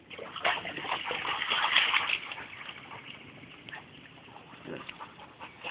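A dog splashes and paddles about in water nearby, making irregular sloshing and splattering bursts that are loudest early on and then grow quieter, with faint voices around it.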